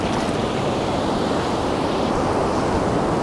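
Ocean surf breaks steadily on a beach during surf fishing, a constant loud wash of rolling waves with wind, with no pauses and no voices.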